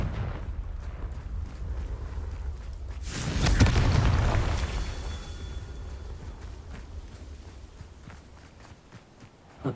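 A Confringo explosion spell in the video game Hogwarts Legacy goes off as a single loud, rumbling burst, which swells and then fades slowly over several seconds against a low background of movement and scuffing.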